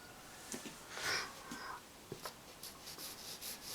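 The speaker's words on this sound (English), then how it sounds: "Blackwing pencil, quite a soft one, and we'll start now doing the sketch of Amelia's face" A soft Blackwing pencil sketches a face on paper, making faint, intermittent scratchy strokes and light rubbing sounds up close.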